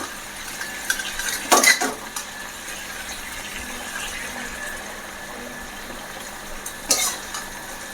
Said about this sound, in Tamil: மீன் நல்லா வெந்துக்கிட்டு இருக்குது இந்த மசாலாலாம் நல்லா சுண்டி வருது